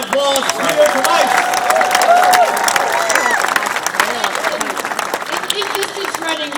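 An audience at a road race awards ceremony applauds winner Peter Kamais, the clapping and crowd noise swelling loudly under an announcer's voice, then thinning toward the end.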